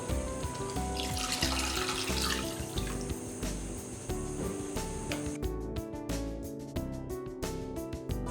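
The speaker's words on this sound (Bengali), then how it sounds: "এখন আমি মাংসটাকে ভালো করে সেদ্ধ হওয়ার জন্য পানি দিয়ে দেব।" Water streams from a tap into a pot of cooked beef for a dark bhuna curry, a steady splashing pour that runs for several seconds before breaking into choppy trickles toward the end.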